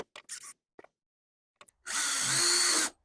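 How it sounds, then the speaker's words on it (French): Power drill whirring for about a second on a solar panel mount at a cabin in the woods, loud and close after a few faint knocks and brief quiet. "On va dévisser l'autre en bas un peu."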